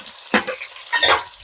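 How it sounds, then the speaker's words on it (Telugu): Chopped onion and green chillies dropped into a hot pan for chicken dum biryani, giving two bursts of crackling sizzle and stirring scrapes close by over a quieter simmer. "మీలోపు మనం కట్ చేసుకున్నాం కదా ఆనియన్, పచ్చిమిర్చి వేసేస్తున్నాం."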